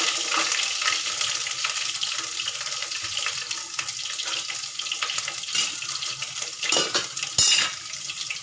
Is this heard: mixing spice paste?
yes